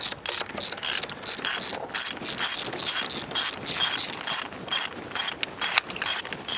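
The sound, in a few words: turning over 1947 IH KB3 truck engine with spark plugs out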